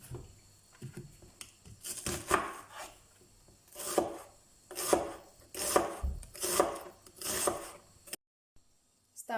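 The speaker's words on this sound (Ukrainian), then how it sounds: "Цибулю розрізаємо на половинку, якщо ж вона більша, то на четвертинки." Knife cutting an onion into halves or quarters on a board, a series of crisp slicing strokes spaced about a second apart, close and fairly loud, with no voices.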